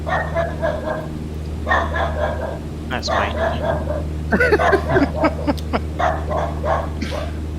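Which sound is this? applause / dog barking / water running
dog barking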